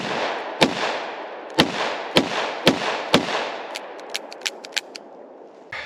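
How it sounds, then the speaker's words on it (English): Ruger GP100 or SP101 revolver fired rapidly outdoors, five loud sharp shots spaced evenly with ringing decay, followed by a quicker run of fainter cracks from other guns and one last shot. "Fast shooting."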